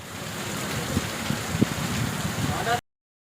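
Heavy monsoon rain pours down outdoors in Kutch, Gujarat, a dense continuous hiss with wind rumble and a few faint thumps, ending abruptly.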